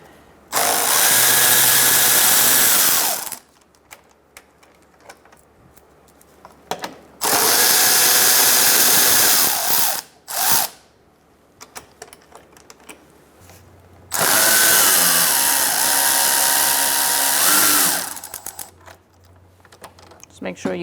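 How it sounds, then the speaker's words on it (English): Three loud bursts of a power tool driving a 10mm socket to remove bolts while replacing a MAP sensor on a 2004-2009 Mazda 3, each buzzing whir lasting several seconds, with clinks of metal in between, close up. "now we're going to use a 10mm socket to remove these two bolts"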